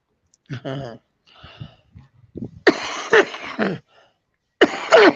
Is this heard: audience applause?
no